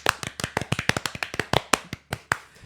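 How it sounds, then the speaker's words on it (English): Sharp, distinct hand claps in an irregular rhythm, close by and fairly loud, from a small number of people. "Everyone, give him a round of applause, please."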